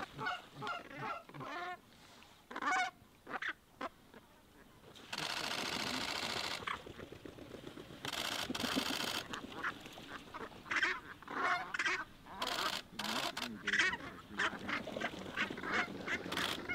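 Outdoors during a brant hunt in Alaska, a Canada goose honks in short repeated calls amid other goose and duck calls, interrupted by bursts of wind or rustling noise and brief voices nearby.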